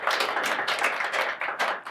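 An audience at a Hindi poetry performance claps in a soft, steady patter of many hands, faint and continuous for a couple of seconds.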